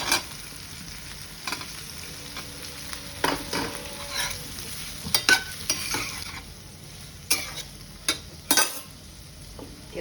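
Fresh peas, boiled beforehand, are stirred and sautéed in a pan for Mumbai-style tawa pulao, with a soft steady sizzle beneath intermittent scraping and clinking stirs of the spatula.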